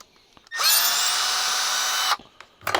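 A power screwdriver removes screws while a Makita angle grinder is taken apart: a single loud, high whirring burst of about one and a half seconds, with small clicks and handling noises before and after.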